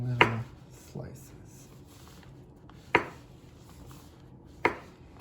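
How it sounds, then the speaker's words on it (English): A knife slicing a peeled banana into thin slices on a board, four separate soft taps spaced a second or two apart, close and quiet with low room noise between. "And then we are going to slice it into thin little slices."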